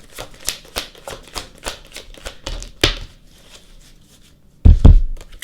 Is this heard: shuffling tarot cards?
yes